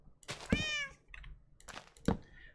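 A loud domestic cat sounds from just behind a wall, a long wavering meow followed by a couple of shorter calls, with faint tapping and thuds in the quiet between them.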